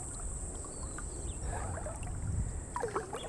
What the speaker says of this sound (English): beautiful running creek here